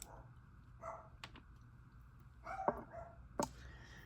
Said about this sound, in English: my girls came in and the dog started barking